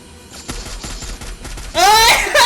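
Gunfire in the mobile battle game Free Fire, a quick run of close shots followed by a loud, bright burst near the end, with some talk mixed in.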